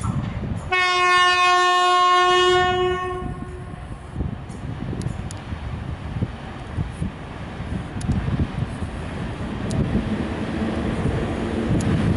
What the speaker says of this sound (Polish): Przejdzie pociąg bez zatrzymania.